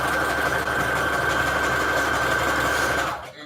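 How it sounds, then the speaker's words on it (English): Sewing machine whirring continuously as it stitches small fabric scraps together, a close, even mechanical hum that stops abruptly near the end. "And now I'm sewing smaller scraps."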